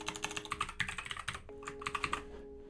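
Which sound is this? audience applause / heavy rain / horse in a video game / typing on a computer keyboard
typing on a computer keyboard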